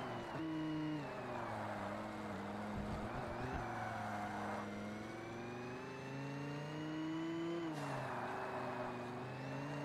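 Car engine in the Forza Motorsport racing video game, a steady loud drone that rises in pitch, drops sharply on a gear change, then climbs again, with no talk.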